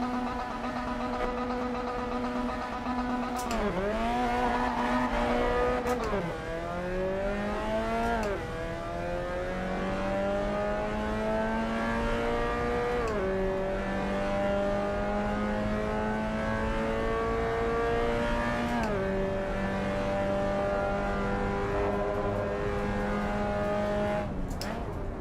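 Mazda MX-5 engine in Assetto Corsa EVO racing around a track, a buzzy four-cylinder revving up through gears with repeated rising pitch sweeps and brief shift dips, steady and close throughout.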